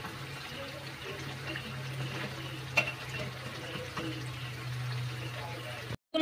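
Jilapi frying in hot oil, a steady soft sizzle and bubbling that runs continuously and close by with no talk, cutting off sharply near the end.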